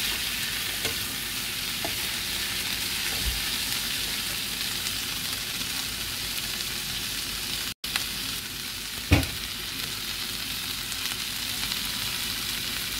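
Tomatoes sautéing in a hot pan for Sri Lankan chicken deval give a steady, loud sizzle and fry hiss throughout, with a few soft stirring knocks and one brief dropout midway.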